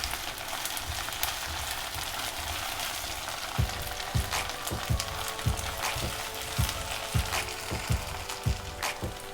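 Garlic sizzles steadily in a pan for Malwani prawns masala, a constant frying hiss running throughout, joined in the second half by a series of sharp spoon scrapes and taps against the pan at a fairly regular pace.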